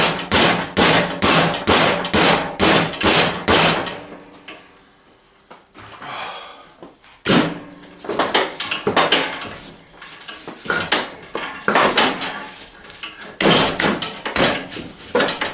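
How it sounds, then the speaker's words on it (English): Repeated sharp metallic hammer blows knocking a part back on during a 2006 Husqvarna YTH2242t lawn tractor repair, in bursts, a brief pause midway, then more rapid striking close by. "I'm going to hammer it back on a little bit"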